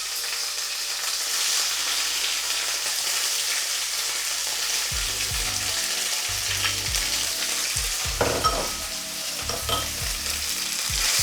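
Vegan beef searing in a pan gives a steady, loud frying sizzle throughout, with a few soft knocks and scrapes of stirring toward the end and no voices.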